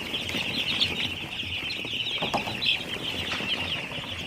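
Four-day-old broiler chicks fill a poultry shed with a dense, steady chorus of high peeping that runs the whole time at an even level, with no one talking.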